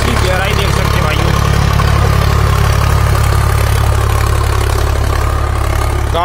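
A Sonalika DI 745 HDM power-steering tractor drags a nine-tine tiller through a field, its diesel engine a steady, loud low drone throughout, with someone talking over it.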